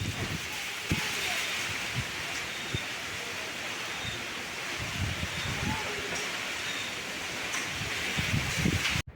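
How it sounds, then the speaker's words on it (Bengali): A storm with strong wind and rain sets in on a cloudy afternoon, giving a steady, loud broadband roar of gusting wind and rainfall that runs unbroken through the whole stretch, with faint low thumps and no talk. "এদিকে দেখো প্রচণ্ড মেঘ করেছে আর ঝড়ও নেমে গেছে"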